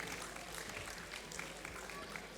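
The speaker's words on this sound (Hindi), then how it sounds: "तालियां बजती रहनी चाहिए दोस्तों इन सभी के लिए।" An audience at a PCL Season 6 sponsor and team owner introduction claps in dense, sustained applause that runs evenly from start to finish.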